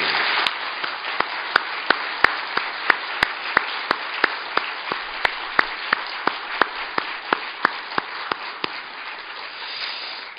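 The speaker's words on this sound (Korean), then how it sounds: "다시 한번 뜨겁게 하나님께 영광의 박수" A church congregation applauds in praise, a steady hiss of many hands overlaid with crisp, evenly spaced louder claps keeping a regular beat throughout.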